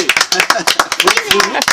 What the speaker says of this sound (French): Tant qu'on applaudit, vous saluez.